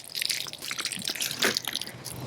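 Water is poured over magnesium fire starter shavings held in a hand, giving a close, uneven splashing and dripping patter.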